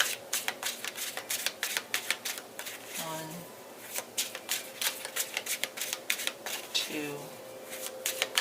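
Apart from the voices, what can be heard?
shuffling tarot cards, three shuffles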